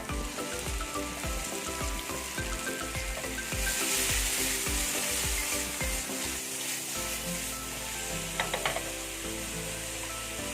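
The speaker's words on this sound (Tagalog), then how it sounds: "Then let's add our onions." Onions sizzle steadily in butter and oil in a pan for a chicken quesadilla, a dense close frying hiss with some rhythmic clicking early on and a few sharp crackles near the end.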